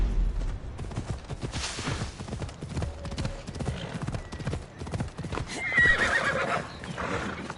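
Horses in Assassin's Creed Odyssey trot with steady clip-clop hoofbeats and whinny loudly, with a sharp neigh standing out near the end amid busy game noise.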